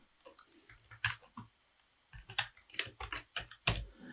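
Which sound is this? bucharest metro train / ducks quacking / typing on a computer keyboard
typing on a computer keyboard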